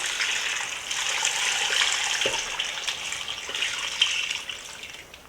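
Liquid gushes steadily into a pot of Trinidadian cowheel and pigtail soup, a continuous close pour of about six cups with no talking.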